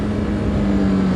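A TVS Apache RR310 motorcycle exhaust holds a loud, deep, bassy drone near 7000 RPM, steady and close throughout the short burst with no voices.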